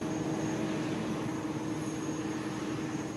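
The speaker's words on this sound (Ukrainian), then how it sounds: "Їхня новинка далекобійний Airbus A350 вже літає." An Airbus A350 long-range airliner flies at an air show, its steady broadband jet roar loud and continuous with a faint tonal whine, no voices present.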